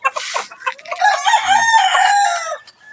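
A rooster crows loudly and close by near a chicken coop, one long drawn-out cock-a-doodle-doo following a short clucking lead-in, with no talk.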